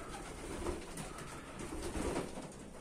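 Pigeons in a loft coo softly and repeatedly at moderate distance over a low, steady background.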